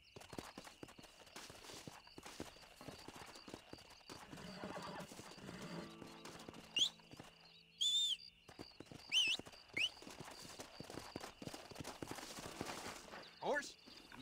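Horse hooves clip-clopping in Red Dead Redemption, irregular walking steps close by with several whinnies and neighs breaking through, ambient game sound beneath.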